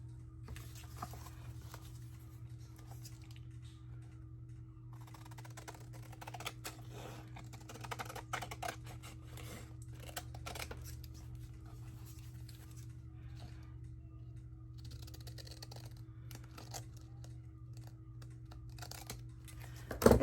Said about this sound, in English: Trying not to cut into the envelope.